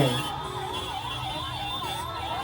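An ambulance siren wails in a steady rising and falling pattern, loud and continuous, with a low engine rumble beneath.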